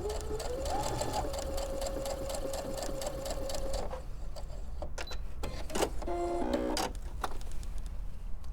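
A home sewing machine stitches a bias seam in a quilt sampler block, running in a steady whirring burst that shifts pitch, then stops, followed by scattered clicks and handling noises close by.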